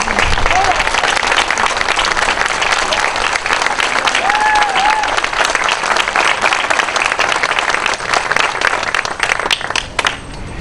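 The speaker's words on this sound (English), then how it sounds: "I would also like to ask every veteran to raise their hand or clap so we see you out there" A crowd of veterans and guests at an outdoor dedication ceremony claps in loud, sustained applause with brief whistles rising above it, and voices mix into the clapping.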